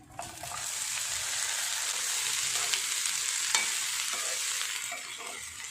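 Okra frying in a pan with curry leaves and chopped dried coconut: a steady, close sizzle with occasional soft clicks of stirring, running throughout with no voices.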